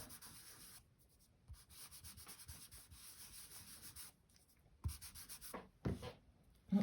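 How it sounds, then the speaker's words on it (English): Chalk pastel rubbed back and forth across paper to cover white areas, a steady dry scratchy rasp in close strokes, with a few louder scrubbing bursts near the end. "Use a little bit of my chalk pastel just to make a solid colour."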